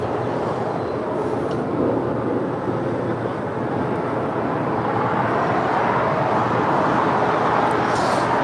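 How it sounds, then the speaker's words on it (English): Spirit Airlines Airbus A320 jet at LAX: a steady broadband engine roar that holds at an even level throughout, with no talk. "We do have a Spirit Airlines Flight 508 heading to Louisville, Kentucky. It's an A320."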